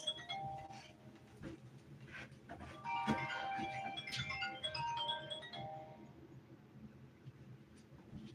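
A doorbell rings indoors, a series of bright chiming tones building over several seconds at moderate loudness and then fading, with no speech.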